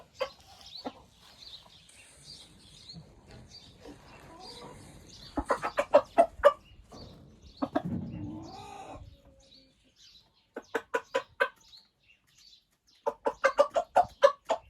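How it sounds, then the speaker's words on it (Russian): An Araucana hen clucking in a backyard coop, bursts of sharp repeated clucks in quick runs separated by quiet gaps, close and clear with faint background noise. "Это курочка Араукана."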